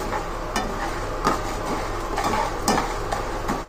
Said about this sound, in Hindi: ये हमने 2 चम्मच घी डाल के गोंद को रोस्ट करने रखा है।